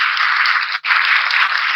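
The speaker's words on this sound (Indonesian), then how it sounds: "berikan tepuk tangan dulu dong buat 3 orang ini" Steady applause for three participants at a self-development talk, a dense, even wash of clapping with a brief dip midway before it resumes.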